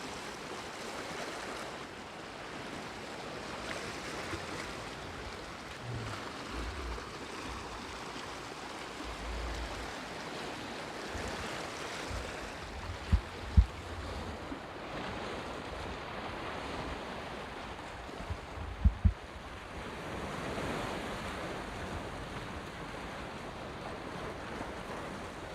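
Ocean waves wash steadily against an island shore in the Azores, a continuous broad roar of surf with gusts of wind buffeting the microphone and a few low thumps, no voices.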